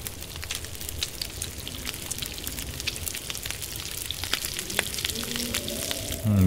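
Water boils in a pot over a campfire in the survival game The Long Dark: a steady, soft bubbling and crackling hiss that continues at an even level throughout.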